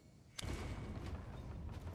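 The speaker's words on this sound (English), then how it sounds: "I keep holding the trigger when I look at these things to close out and it just starts firing off rounds" A single sharp gunshot bursts out in Resident Evil Village, followed by a rumbling, echoing tail that lingers and swells again near the end.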